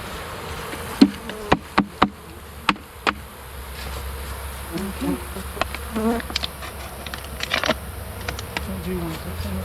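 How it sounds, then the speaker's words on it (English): Bees hum and buzz in a low drone, broken early by a few sharp knocks and later by scattered clicks and faint rustling. "A lot of bees."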